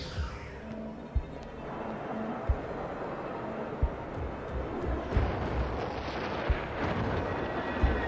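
Repeated heavy booms of ships being shot down in the animated show RWBY thud at irregular intervals over a dense, rumbling roar of battle noise.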